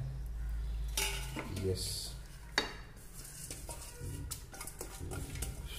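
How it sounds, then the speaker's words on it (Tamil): A spoon stirs soaked rice gently in a cooking pot for vegetable pulao, giving soft scraping and clinking against the metal over a low hum, with a brief sharper knock partway through and a voice speaking briefly. "இப்போ நல்லா ஜென்டலாக கிண்டி விட்டுருவோம்."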